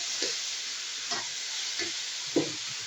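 Eggplant and potato pieces frying with shrimp in a pan give a steady sizzling hiss, broken by a few soft stirring clatters spaced about a second apart.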